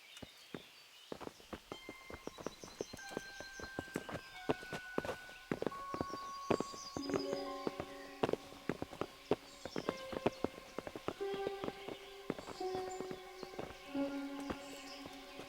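In Kingdom Come: Deliverance, horse hooves clip-clop in an irregular patter over a busy backdrop of chirping, buzzing tones and clicks, with no voices.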